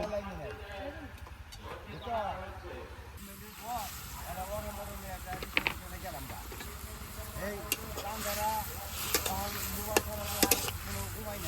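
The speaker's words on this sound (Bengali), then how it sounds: "শুটকিটা হালকা করে কষে নেই।" Dried fish (shutki) frying with spices in a pan in a village kitchen, a steady sizzle with stirring scrapes running throughout under a voice talking.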